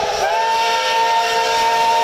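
An 80-year-old steam locomotive on a test run at the Hualien depot for the Taitung line sounds a loud, sustained whistle, a steady harmonic tone that holds for about two seconds over a constant hiss of escaping steam, with no talk.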